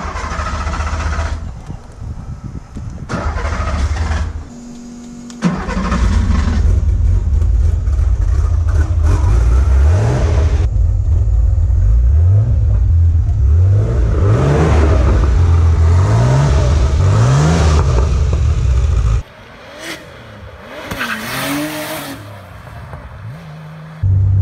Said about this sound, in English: we were driving a race car on the street